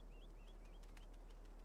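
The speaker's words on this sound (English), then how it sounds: "Calm down, girl. It's just a bird." A bird call in the video game Scarlet Hollow: three short rising whistled notes repeat in quick succession, faint over a low steady hum, followed by soft scattered chirps.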